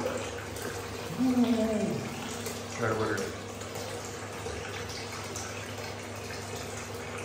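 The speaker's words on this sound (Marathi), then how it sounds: "शॉवर" Shower running water in a villa bathroom, a steady hiss of spray in the background while people talk and laugh over it.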